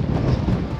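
Strong wind buffets the microphone at North Cape in Norway, a steady loud roar of gusting noise filling the whole moment with no break.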